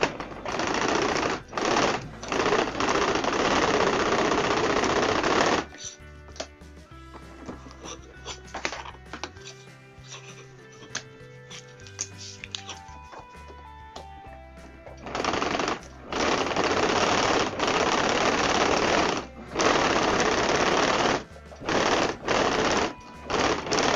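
Domestic sewing machine stitching a straight seam on heat-resistant cup sleeve fabric, with a loud steady rapid whir in long runs broken by short pauses and a quieter stretch of handling in the middle.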